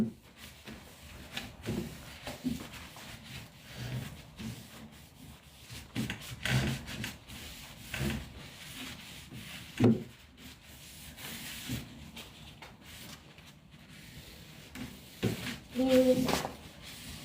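Rough rubbing strokes of sandpaper on a wooden chair back, irregular and close, coming in bursts with short pauses, some bumps and knocks between.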